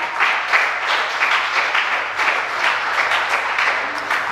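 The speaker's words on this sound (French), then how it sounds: "Sous des ovations." Sustained, loud applause and ovation from an audience cheering student candidates from a modern high school, steady dense clapping throughout without a break.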